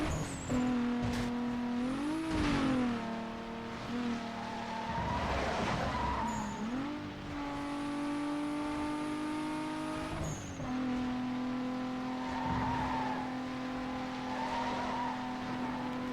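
A race car in Need for Speed: Most Wanted (2005) revs hard through shifting gears, engine pitch climbing and dropping, with sharp tire squeals and skids through corners, loud and close throughout.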